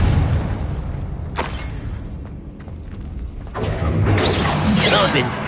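A Confringo explosive spell from the Hogwarts Legacy video game goes off with booming, crashing blasts, a sharp burst early on and a louder, sustained eruption near the end over rumbling combat noise.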